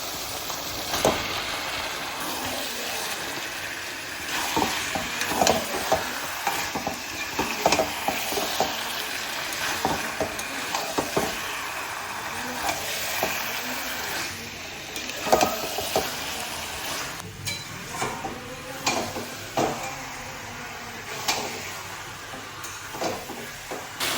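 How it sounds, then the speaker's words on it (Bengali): Chicken from a country rooster is sautéed in an oily spice paste, giving a low sizzle broken by frequent scraping and clacking stirring strokes that keep an uneven rhythm throughout. No one talks. "মাংস সুন্দর করে কষানো হয়ে গেছে"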